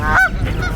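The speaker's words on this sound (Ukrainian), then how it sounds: "Дивіться, всі гуси за нами." Loud, close honking from geese, a couple of nasal calls overlapping in quick succession.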